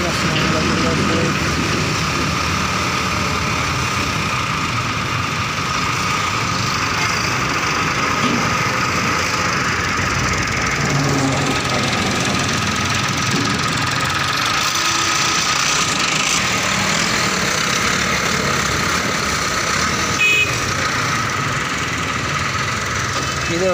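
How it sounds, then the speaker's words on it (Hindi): Massey Ferguson tractor engine running while soil is unloaded from a trolley in Punjab, a loud continuous knocking drone that stays close and constant throughout. "मिट्टी साट रहे हैं ट्रैक्टर है"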